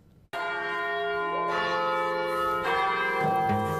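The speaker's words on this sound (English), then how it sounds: "students on Michigan State University's campus have marked their day by the toll of the bells at Beaumont Tower" Beaumont Tower's church bells on Michigan State University's campus toll loudly and close, a sudden strike followed by further overlapping peals ringing out with long sustained resonance.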